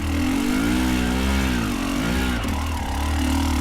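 A KTM motorcycle engine on loose ground lugs at low revs as the clutch is let out, a steady deep rumble with wavering pitch that stays loud and close throughout without stalling.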